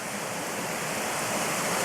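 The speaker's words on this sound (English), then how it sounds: "this is the start of the waterfall" A waterfall pours over flat rock in a steady, dense rushing roar, close and constant without any break or change in intensity.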